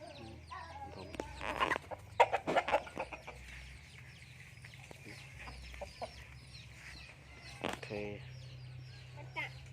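Chickens cluck in short bursts close by, with a few louder squawks, while a person talks intermittently over a low steady hum.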